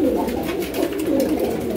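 Pigeons coo at a pigeon seller's, nearby and fairly loud, with soft rolling coos that overlap in a steady, burbling murmur for the short stretch.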